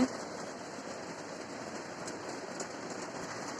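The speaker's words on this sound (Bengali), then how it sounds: "আমাদের এখানে কিন্তু সারা রাত ধরে বৃষ্টি হয়েছে এখনও বৃষ্টি হচ্ছে" Steady, faint rain from Cyclone Remal in Chittagong hissing evenly without pause, a soft continuous wash of patter.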